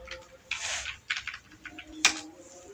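Keys clatter on a computer keyboard as code is typed, coming in short bursts of quick taps with a sharper click near the end, close and fairly quiet in a room.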